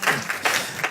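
A church congregation at a sermon breaks into brief rhythmic clapping, several sharp bursts of applause in quick succession, close and fairly loud, with no voices over it.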